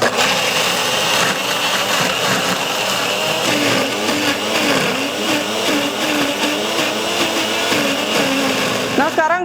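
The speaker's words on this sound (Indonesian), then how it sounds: "Kita akan blender kemiri, bawang merah, bawang putih, dan juga ketumbar." A blender grinds candlenut, shallots, garlic and coriander with oil, a loud close motor whir with a churning, slightly wavering pitch that runs continuously throughout.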